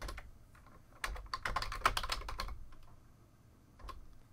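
Keys clatter on a computer keyboard as a new password goes in: a quiet opening tap, then a dense burst of quick close keystrokes, a pause, and a final few taps.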